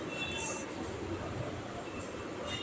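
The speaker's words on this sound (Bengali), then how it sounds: "এইবার চলে এলাম আমরা ট্রেনে।" An amusement park train ride at Nicco Park gives a soft, continuous low rumble of rolling wheels with faint hiss, heard at low level with no clear talk.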